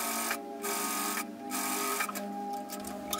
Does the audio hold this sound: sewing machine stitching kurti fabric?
yes